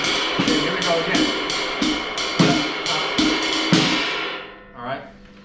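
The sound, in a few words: jazz melody interpreted on drum kit ride cymbal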